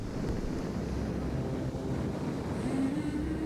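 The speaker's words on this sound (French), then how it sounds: "Un bruit incessant de ces vagues en furie" Raging ocean waves crash along the West African coastline in a steady, incessant roar, dense low rumbling surf with wind buffeting throughout and no pauses.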